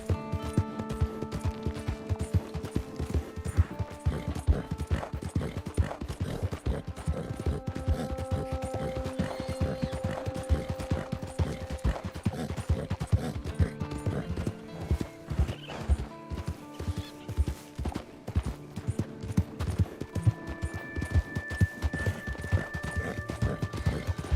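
A horse gallops in the video game Red Dead Redemption 2 Online. Quick, continuous clip-clop hoofbeats run for the whole stretch, with sustained in-game music tones underneath and an occasional neigh.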